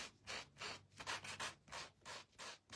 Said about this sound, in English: I'm not going to sand over the top of this angel. I just wanted to do the edges a little